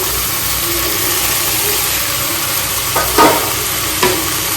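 Okra frying in a pan with tomatoes is stirred, giving a steady loud sizzle throughout with a few sharp scraping strokes of the spoon near the end.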